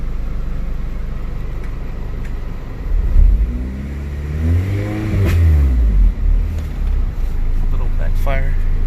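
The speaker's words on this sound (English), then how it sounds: "A little backfire." A Honda K20 engine revs up and falls back, its rising and falling pitch broken by a couple of sharp backfire pops, heard close with voices around it.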